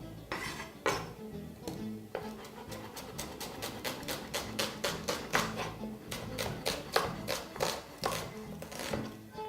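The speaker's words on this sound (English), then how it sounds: "I will start off by just halving this beautiful white onion" A knife cuts through a white onion on a board, producing a fast series of sharp, evenly spaced taps and clicks that grow more regular as the cutting goes on.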